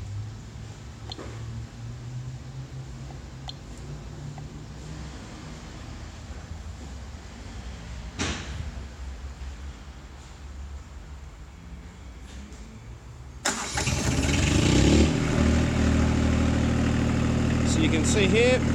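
A Coelmo DML740 marine power generator runs with no load during a workshop test, giving a steady low engine drone that grows louder and fuller partway through, with no talk over it.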